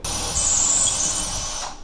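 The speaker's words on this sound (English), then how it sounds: "I'll drill it through the face of our jig." Power drill boring through the face of a wooden hole jig while installing cabinet door handles, a loud continuous high-pitched whine lasting under two seconds before tapering off as the bit clears.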